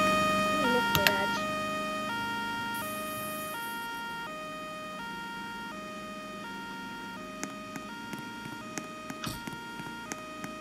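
A police car siren in a car-crash physics video game wails in alternating stepped tones, cycling steadily at moderate loudness with a few sharp clicks near the end.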